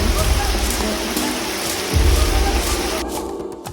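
Steady, dense rain falls on a mountain trail on Mount Ciremai in West Java, a loud continuous hiss of drops on surfaces with low rumbling underneath, easing slightly at the end.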